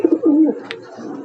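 A young pigeon in a family loft, its wings just developing, gives a low cooing burble near the start, followed by a brief faint chirp and quiet background noise.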